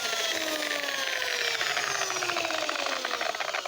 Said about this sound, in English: That's enough of the sanding.